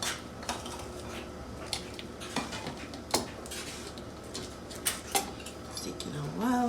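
Smoothie ingredients being dropped into a bullet blender, giving a run of sharp clinks and knocks at irregular intervals, close and fairly quiet, with faint kitchen handling sounds in between.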